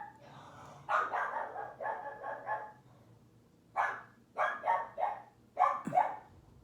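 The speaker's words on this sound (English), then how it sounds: "that's my dog Millie trying to tell you guys the pick also" A dog barks in quick bursts, a cluster of sharp barks, a pause, then several more, fairly close against a quiet background.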